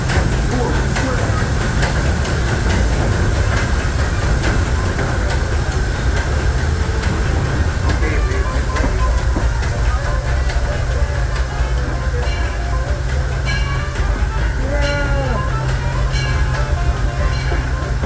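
The Disneyland Railroad steam train running near New Orleans Square Station, a steady loud rumble and hiss of rolling cars with hums and squeals, people talking over it throughout.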